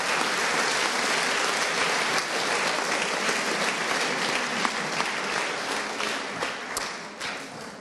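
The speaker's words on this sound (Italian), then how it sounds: "Ecco, un bel applauso." Sustained applause from a crowd at an outdoor sports festival, a dense continuous clatter of many hands clapping throughout, easing slightly toward the end.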